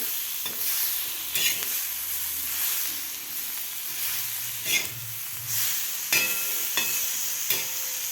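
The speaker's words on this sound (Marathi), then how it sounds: "परत एकदा आपल्याला मिक्स करायचं आहे लिंबू पिळून घेतल्यानंतर" Masala chillies with squeezed lemon are mixed in a hot pan, a constant close sizzle and hiss broken by a few stirring clinks against the pan, with no voices.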